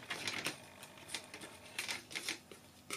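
Paper trimmer blade cutting cardstock, a quiet series of short gritty clicks and scrapes in an uneven rhythm, close up with no voice.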